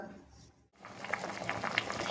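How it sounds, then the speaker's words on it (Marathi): Dried prawn curry (sode rassa) bubbling to a boil in a pot, a soft continuous bubbling and simmering texture with small pops, heard close up after a brief pause. "हे बघा, आपल्या कालवणाला मस्त उकळी आलेली आहे."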